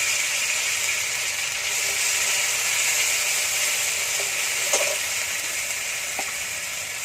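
Mustard and chili paste fries in hot oil with panch phoron for a silver carp fish curry, giving a steady, close, even sizzle throughout with a few faint clicks of stirring.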